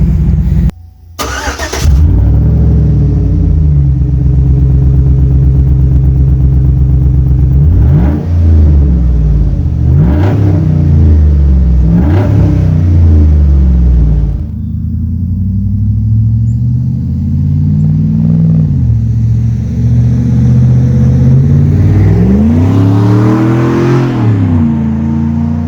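A Chevy Silverado or GMC Sierra pickup with a glass pack exhaust fires up and idles with a deep, loud rumble, then revs several times, each rev rising and falling back to the throaty idle.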